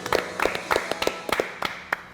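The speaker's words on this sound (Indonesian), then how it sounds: "Kita kasih. tepuk tangan dulu dong." Applause from an audience at a community gathering on greening the city, with a burst of claps repeated in quick uneven bunches across about two seconds, fairly close and with no talk over it.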